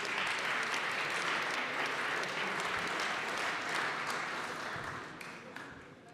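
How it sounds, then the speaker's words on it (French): An audience at an awards ceremony for sustainable housing trophies applauds, a dense, even wash of clapping that holds steady for about five seconds before thinning out with a few scattered claps. "Sous vos applaudissements, s'il vous plaît."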